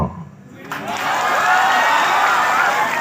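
An audience at a speech bursts into applause and cheering, a sustained wash of clapping rising quickly after a brief pause and holding loud to the end.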